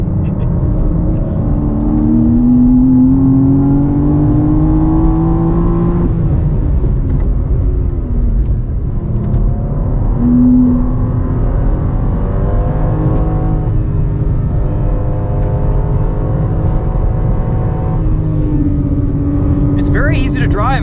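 A 2023 BMW M4 CSL is driven hard around a race track, its engine droning loud and steady with rising and falling revs through gear changes, heard from inside the car while someone talks over it.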